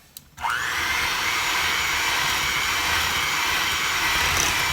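An electric mixer whirs steadily as it blends cane sugar into cookie dough for fall spice chocolate chip cookies, switching on after a brief quiet moment and running loud and unbroken to the end.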